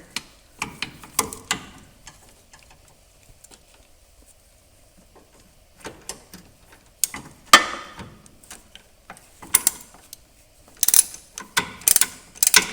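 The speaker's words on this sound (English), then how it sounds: "Let me get my swivel socket up on here." Ratchet with a swivel socket loosening a power steering line fitting on a VW Golf Mk4 TDI, bursts of rapid clicking pawl strokes separated by pauses, close and fairly loud.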